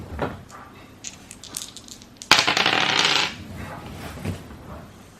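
Dice rattle and clatter across a surface in a sharp burst of hard, bright clicks that settles quickly, following quieter handling sounds nearby, with no talking.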